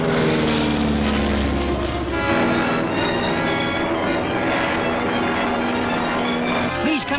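A propeller airplane engine drones loudly and steadily in flight in a 1941 film serial. The continuous roar fills the scene while a voice speaks over it.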